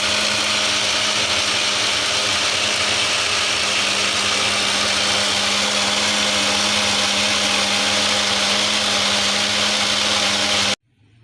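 An electric blender whirs steadily and loudly while mixing oil into a white sauce for chicken shawarma, holding one even drone with no talk before cutting off abruptly at the very end.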